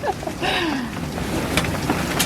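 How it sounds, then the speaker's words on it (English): Gale-force wind gusts around a sailboat lying at anchor, a steady roaring whoosh with faint whistling tones from the rigging and no speech. "Oh, it's a little windy."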